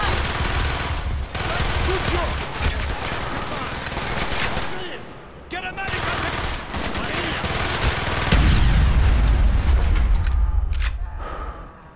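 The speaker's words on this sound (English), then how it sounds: "So I got a Sten gun and a PPSH." Rapid bursts from a Sten gun and a PPSh in Call of Duty: Black Ops rattle almost nonstop, loud and close, amid battle noise and shouted voices, with a brief lull near the middle.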